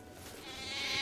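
A sheep-like bleat from a sheep or satyr goatman creature in the modded game Oblivion (Skyblivion), a short wavering cry that swells slightly in loudness over about a second, heard alone.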